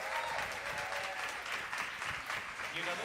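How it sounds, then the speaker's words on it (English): An audience at a Seattle candidate forum gives sustained applause, even and continuous, with some faint voices running under the clapping. "Round of applause, and thank you so much."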